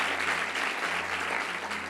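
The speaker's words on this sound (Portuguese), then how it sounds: "dê uma salva de palmas a Jesus" A church congregation at Zion Church Lisboa bursts into loud, sustained applause, a dense wash of many hands clapping together for the full two seconds with no pause.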